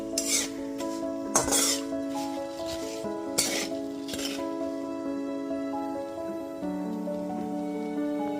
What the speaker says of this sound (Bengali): চিনিটা এখানে ক্যারামেলাইজ করে নেব।